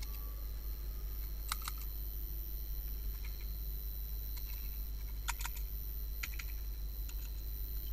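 Sparse, soft clusters of computer keyboard keystrokes come in short bursts a few seconds apart over a steady low electrical hum, faint and close.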